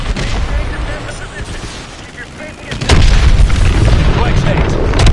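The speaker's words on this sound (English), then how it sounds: "Lock onto those hard points and hit them with your missiles." Missile strikes on the hard points of a hydroelectric dam in a flight combat video game set off loud booming explosions, with a heavier rumbling blast partway through, under continuous engine noise and radio chatter.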